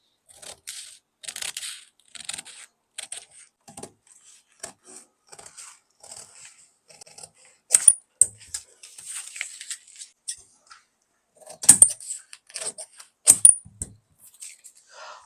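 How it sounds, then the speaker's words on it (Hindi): Sharp snips and crunching blade strokes of scissors cutting through folded blouse fabric, coming in irregular close bursts separated by short quiet gaps, with a few louder clacks of the blades. "अब हम इसको पहले काट लेते हैं फटाक से"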